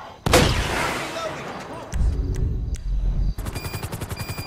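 Rocket and gunfire blasts in a GTA V action sequence, a sharp loud burst followed by heavy rumbling explosions and rapid rhythmic firing toward the end.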